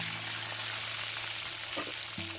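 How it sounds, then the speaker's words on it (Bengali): Fish frying in hot mustard oil in a pan, a steady close sizzle and crackle with no talking, fairly quiet overall. "আমি সবকটা মাছ তেলে একই সঙ্গে দিয়ে দিলাম।"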